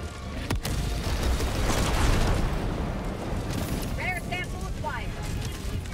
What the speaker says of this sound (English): I just threw an airstrike.